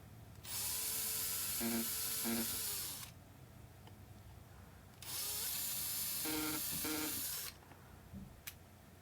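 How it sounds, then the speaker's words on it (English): A power drill backing out a screw runs in two sustained bursts of a few seconds each, whirring with a steady high-pitched hiss, close by and loud, with no talking. "It's always drilling in to get the screw out"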